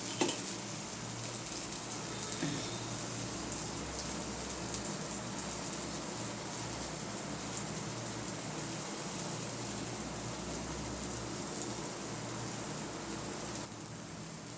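Ragi and drumstick-leaf (moringa) dosa frying in oil on a pan, giving a steady, even sizzle that holds throughout with no talking.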